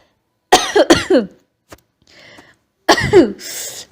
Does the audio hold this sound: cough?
yes